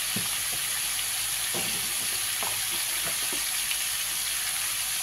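Cumin and coriander powder sizzle in a pan with ginger paste for a potato and fish curry, a loud, steady hiss with a few faint low knocks, close and unbroken, with no voices.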